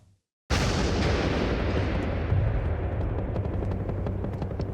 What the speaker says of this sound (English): And then all of a sudden there were 1 or 2 explosions, grenades.